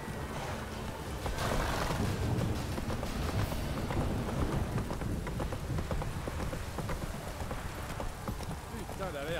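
Heavy rain pours down in The Witcher 3, a dense steady hiss of downpour mixed with clip-clopping horse hooves, loud and continuous throughout.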